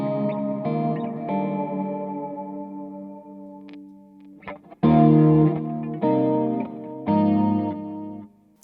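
An electric guitar played through a Fender Switchboard pedal switcher with a chorus pedal engaged, a sustained shimmering chord fading, then three loud strummed chords rung out in turn, alone without talk.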